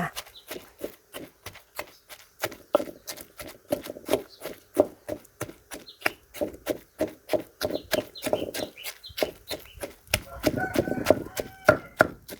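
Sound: pounding chilies with fresh shrimp in mortar

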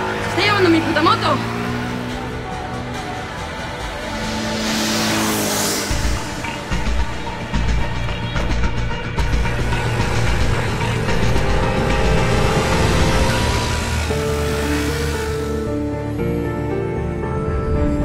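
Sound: motorcycle driving away

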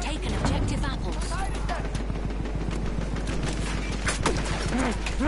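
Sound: machine gun fire in a video game

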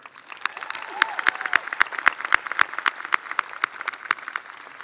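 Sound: audience applause at commencement

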